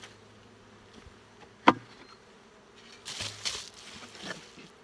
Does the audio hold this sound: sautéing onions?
no